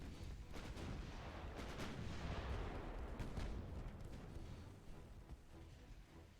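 Warship secondary guns in the naval battle game Ultimate Admiral: Dreadnoughts, Battle of North Cape, booming in a dense rumbling barrage with rapid overlapping reports, heavy low thunder that fades slightly toward the end.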